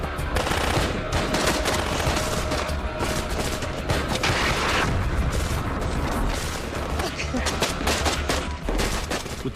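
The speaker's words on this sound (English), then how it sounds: "We return fire." Return fire during an attack on a vehicle blocked in a kill zone: dense, loud, continuous bursts of gunfire with heavy booms, nearby and with no pause.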